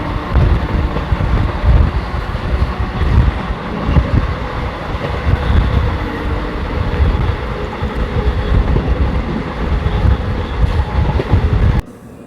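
A moving passenger train, 14526 Shri Ganganagar–Ambala, rumbles steadily with dense rolling noise, wheel clatter and wind buffeting, loud and continuous throughout before cutting off sharply at the end.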